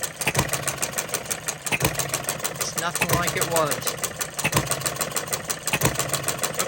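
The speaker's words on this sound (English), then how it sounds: "it will have a little shake because it's a one-cylinder engine." A Coles one-cylinder engine runs with a steady, rhythmic chugging thump and mechanical clatter, close and fairly loud, while a person talks over it.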